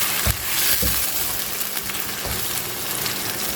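Marinated chicken dropping into a hot pan of onions, a brief splash followed by a steady close sizzle and frying hiss, with a few soft clunks of the pieces landing.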